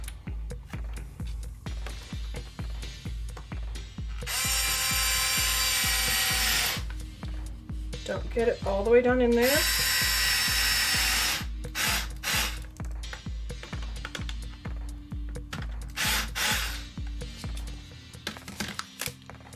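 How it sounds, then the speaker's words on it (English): Power screwdriver driving screws into a DIY wooden letterboard while mounting a sawtooth hanger, in several whirring bursts with a short squealing spin, over a steady low hum; a person talks briefly. "if you do have a power screwdriver, is to go ahead and drill those in"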